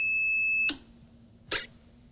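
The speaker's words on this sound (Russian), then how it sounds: "Я тоже пугаюсь вот каждый раз, когда он начинает пикать." A toy lie detector holds one steady electronic beep for under a second, then stops. Two short bursts of noise follow in an otherwise quiet room.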